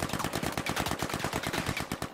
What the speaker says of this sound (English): He's shooting at someone behind us.